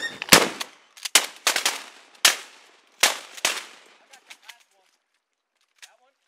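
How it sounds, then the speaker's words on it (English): A long-distance gunshot sounds among several loud, sharp cracks fired in an irregular burst, each with a ringing tail. Fainter, distant pops trail off afterward. "Dude, that was a far shot."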